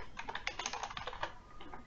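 Fingers type quickly on a computer keyboard, a close run of light, irregular key clicks with no speech over them.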